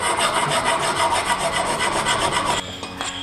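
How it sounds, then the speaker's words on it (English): A good file worked by hand across the edge of a bicycle steerer tube held in a vise, giving steady, close rasping strokes that run continuously before shifting to lighter, broken scraping near the end. "using a good file."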